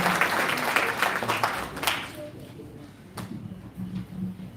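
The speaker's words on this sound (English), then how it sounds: "I request all of you to give my wonderful panelists a round of applause" An audience at a panel discussion claps for the panelists, a burst of applause that thins out after about two seconds, followed by a speaker talking over scattered lingering claps.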